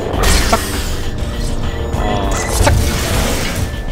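Explosions in the video game Half-Life 2, a loud continuous booming roar with a couple of sharper crashing impacts standing out over the dense rumble.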